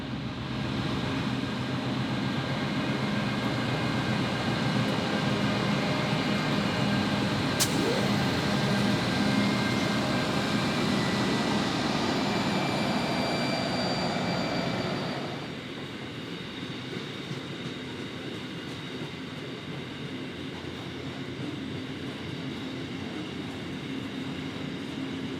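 A Pacific National freight train with a mixed load, led by NR122, NR43, NR66 and LDP 007 on the New South Wales Main South Line, rumbles past loudly and steadily. A brief horn-like tone sounds partway through, and the noise drops noticeably near the end.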